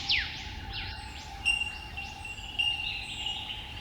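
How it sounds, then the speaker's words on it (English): Songbirds singing in a forest at dawn, with several clear chirps and whistled phrases over a steady insect-like drone, moderately close against a quiet, hissy background. "gradually all the other songbirds start joining in, and eventually you get this beautiful cacophony of sound"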